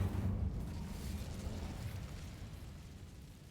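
An Incendio fire spell goes off in Hogwarts Legacy as a loud, close burst that fades into a low, rumbling crackle over a few seconds.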